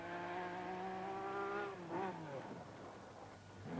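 A rear-engined 2.4-litre V6 Lancia Stratos rally car, driven by 1979 world champion Bjorn Waldegard, revs hard, then its note dips and rises again. The engine sounds faint and distant.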